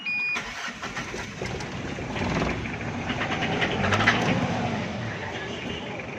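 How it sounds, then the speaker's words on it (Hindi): A car with a leaking turbo that burns oil cranks and starts, its engine catching and settling into a steady, rough idle that stays close and fairly loud. "ये गाड़ी को हम स्टार्ट करेंगे।"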